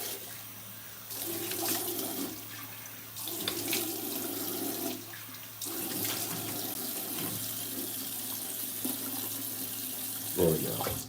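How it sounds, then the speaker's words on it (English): A bathroom tap runs in steady bursts for a cold-water rinse after a clean shave, water splashing into the sink close by with brief pauses between flows and no talk. "Cold water rinse."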